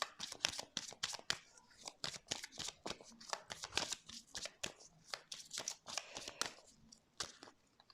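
Tarot cards are shuffled in a dense run of quick riffling and slapping bursts, steady and close, continuing for several seconds with no talk over them.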